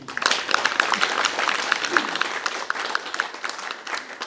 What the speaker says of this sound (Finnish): Näytelmällä on 2 ihmistä, Eeva ja Juho, joille mun mielestä voi antaa vielä kerran aplodin